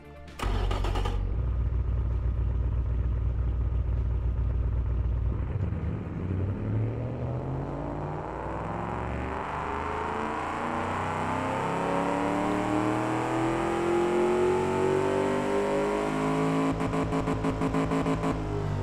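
Race car engine in the Automation car-building game, an IMSA GTU-style build, revving hard: a brief burst, then a long rising climb in pitch as the motor winds up through the range, loud and close throughout.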